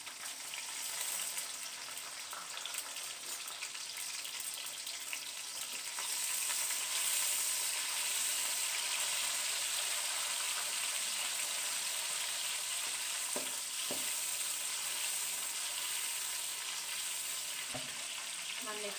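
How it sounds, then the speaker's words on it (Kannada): Green chillies sizzle in hot oil for egg burji, a steady close hiss that swells after a few seconds, with a few soft clicks of stirring near the end and no talking. "ಎಣ್ಣೆ ಬಿಸಿ ಆಗಿದೆ. ನಾನು ಇದಕ್ಕೆ ಹಸಿಮೆಣಸಿನ್ಕಾಯಿ ಹಾಕ್ಕೊಳ್ತಾ ಇದ್ದೀನಿ"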